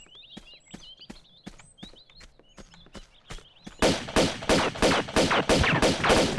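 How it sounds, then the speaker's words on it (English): Gunfire in the video game Tomb Raider 2, a rapid run of sharp evenly spaced shots with bird-like chirps at first, then a louder, harsher volley of repeated bursts close up. "Stop shooting me!"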